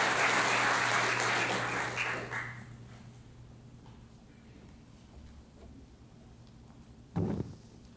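An audience applauds a panel at a literary conversation event, dense close clapping that fades out after about two seconds, followed by quiet room tone and a brief knock.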